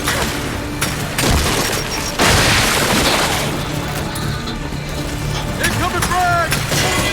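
A frag grenade detonates in the Gears 5 campaign, a heavy blast landing amid continuous gunfire and battle noise, with voices shouting over the chaos.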